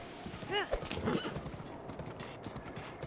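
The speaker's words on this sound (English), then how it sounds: "The horse is just running straight to the water." A horse gallops toward water in Breath of the Wild, its hooves clip-clopping in a steady run along with a whinny near the start, under ongoing game ambience.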